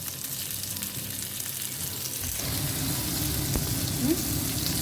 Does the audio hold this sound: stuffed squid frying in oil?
yes